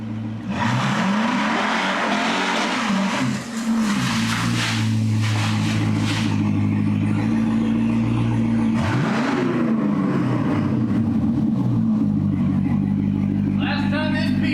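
A C6 Corvette engine runs loud and close, holding a steady drone with a couple of brief rising and falling rev swells, and no voices over it.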